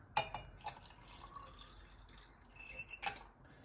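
Water poured into a glass jar while preparing a liquid mushroom culture, heard as faint trickling with a few small drips and glassy clinks, quiet and close with no talking.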